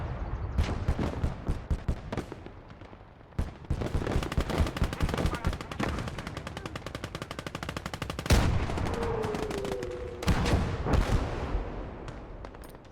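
Gunfire rattles through a World War II battle in the video game Gates of Hell, with dense machine-gun bursts and single shots, occasional heavy booms and a voice speaking under the din.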